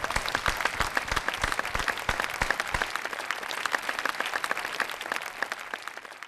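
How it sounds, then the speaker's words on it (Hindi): Audience applause welcoming a ghazal singer at a music gathering, a full crowd clapping steadily and densely throughout, loud at first and slightly softer later. "आपकी भरपूर तालियों में"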